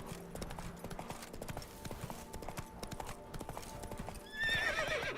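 Roach, the horse in The Witcher 3 video game, clip-clops at a steady gait over game ambience and music, ending in a whinny.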